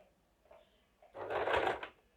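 An electric sewing machine stitches a seam on blouse fabric for a princess-cut blouse, giving a single short, close burst of rapid needle chatter of about a second after a few quiet handling sounds.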